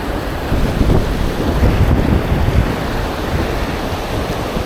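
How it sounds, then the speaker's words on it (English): Wind blowing upstream along an Idaho river, a steady low rushing roar buffeting the microphone, loud and continuous, with no speech. "Kind of hard, the wind's blowing upstream, blowing my line around"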